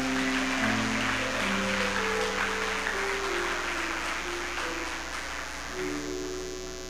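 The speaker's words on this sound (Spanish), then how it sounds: "Suéltale un aplauso a Dios." Congregation applauding for God during an evangelical church service, a broad steady wash of clapping mixed with sustained organ or keyboard tones and a low hum throughout.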